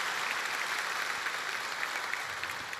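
Church congregation applauding soprano, violin and piano performers after a worship song, a steady wash of clapping throughout, moderately distant and even.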